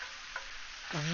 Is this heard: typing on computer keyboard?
no